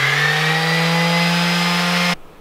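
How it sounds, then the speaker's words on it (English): An electric sander runs steadily on an off-grid portable power system, a loud continuous motor whine with a strong low hum, then cuts off abruptly near the end. "Sander."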